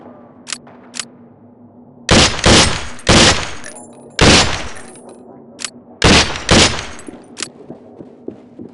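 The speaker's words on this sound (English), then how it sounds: "The M4 fires in semi and full auto modes, while the submachine gun has semi-auto and a 3-round burst" M4 rifle and submachine gun fire in SWAT 4: two small early shots, then several loud sharp bursts of rapid automatic fire separated by short pauses, close and punchy against a quiet hum.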